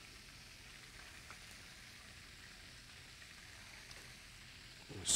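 Po' boy filling fries in a pan with a soft, steady sizzle that holds faint and even throughout, followed by a short louder clatter at the very end.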